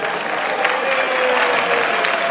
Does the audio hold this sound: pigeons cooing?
no